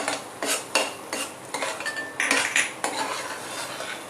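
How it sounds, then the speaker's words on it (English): A metal spoon stirs cardamom powder into a mixture in a pot, giving repeated clinks and scrapes in an uneven rhythm, close and fairly loud, with no talk. "Mix well."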